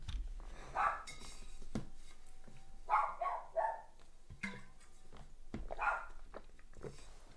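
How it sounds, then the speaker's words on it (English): A pet dog barks in a few short bursts spread through the clip, moderately close indoors, with quieter background noise between the barks. "Also really glad that my dog's barking."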